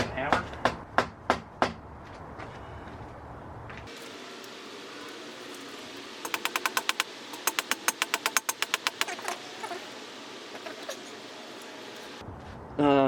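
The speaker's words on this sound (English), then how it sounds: "If I hit it with a hammer." Repeated hammer blows on metal during front lowering work on an Alta Redshift SM39 electric motorcycle, a quick burst of sharp near strikes followed later by a rapid run of lighter taps, with quiet workshop background between.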